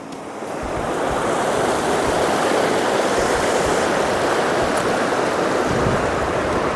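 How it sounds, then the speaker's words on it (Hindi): A mountain river near Kunzum Pass rushes in a loud, continuous roar that swells in within the first second and holds steady, with wind on the microphone and no talk. "और क्या नदी है यार,"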